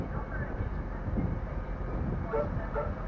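A tram bound for Deansgate rumbles steadily as it pulls away at Manchester Airport, a low continuous mechanical drone with faint voices nearby.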